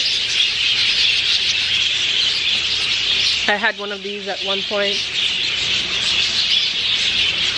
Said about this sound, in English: I don't know what kind of birds these are, but they're super noisy.